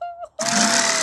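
A new jigsaw cutting into basswood starts with a sudden, loud, steady buzzing close by after a brief hum, and keeps running without a break.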